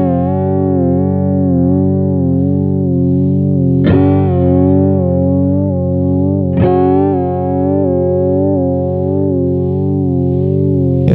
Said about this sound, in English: Okay, it's a sine wave.